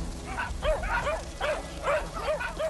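Several puppies bark in quick, uneven bursts, about six yaps with short gaps, fairly close, over a low rumbling background.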